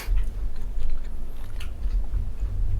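Someone chews truffle sausage in France, soft wet mouth sounds and bites repeating steadily and close up, with no talking over them.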